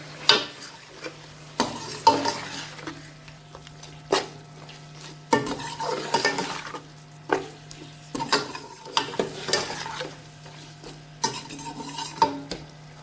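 Beef being stirred in a pot with ground coriander and red chilli powder for beef yakhni pulao: repeated scraping, clinking spoon strokes in an irregular rhythm over a soft background hiss, close and moderately loud.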